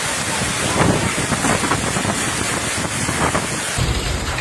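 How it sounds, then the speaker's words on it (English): Wind-driven hail pounding during a powerful Texas hailstorm, with hailstones from pea to quarter size; a dense, continuous roar of hard impacts and gusting wind, loud and steady throughout, with no voices. "Getting a lot of wind-driven hail."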